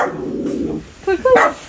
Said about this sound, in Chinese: 你看这小狗。